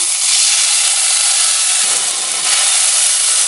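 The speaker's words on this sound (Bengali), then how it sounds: "কড়া ভাজা হয়ে গেছে, এখন আমি জল দিয়ে দিচ্ছি।" Water poured into a hot pan of crisply fried potatoes for a thin fish curry gives a loud, steady sizzling hiss that runs throughout, easing slightly midway before surging again.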